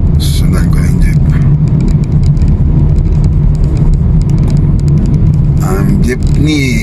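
A jeep drives along Macapagal highway: a steady loud engine and road rumble continues throughout, with traffic noise and a brief horn-like tone near the end, while someone talks over it.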